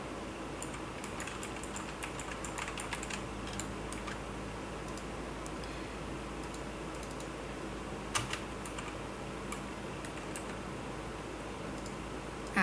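Steady typing on a computer keyboard, a continuous patter of light key clicks through the whole stretch with a few louder taps, close-miked over a faint hiss, no voices.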